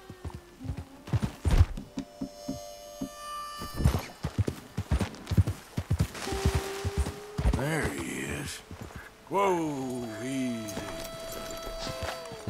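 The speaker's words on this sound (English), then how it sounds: "Oh, his horse is down there." Hooves clip-clop in uneven bursts alongside footsteps in the video game Red Dead Redemption 2, then a horse neighs and whinnies twice near the end, with talk and game sounds around them.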